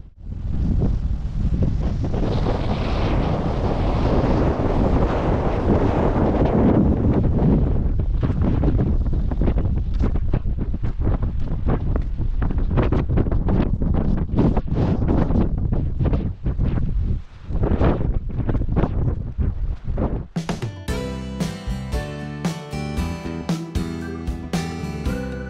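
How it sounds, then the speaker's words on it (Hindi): Cold wind blowing hard at the Kukri War Memorial in Diu, a loud continuous roar buffeting the microphone for most of the stretch before music takes over. "कुकरी वॉर मेमोरियल से बहुत ही ठंडी ठंडी हवा चल रही है"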